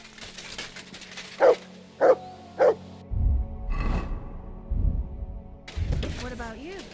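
A dog barks three times in quick succession in the medieval role-playing game Kingdom Come: Deliverance II, clear and close, followed by a low rumbling game backdrop and a voice speaking.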